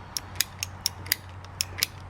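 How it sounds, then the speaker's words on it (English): AC drain line being cut to size with a ratcheting cutter, giving about nine evenly spaced sharp clicks over a low steady hum, close and without talk. "I'm gonna go ahead and cut this one down to the required size"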